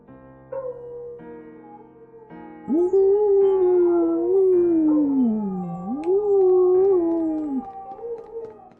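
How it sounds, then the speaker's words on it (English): A dog in the I Am Setsuna video game lets out a long, wavering, mournful howl that rises and falls in pitch, preceded by shorter whimpering calls, loud and clear against quiet surroundings. "That dog is sad that I'm leaving."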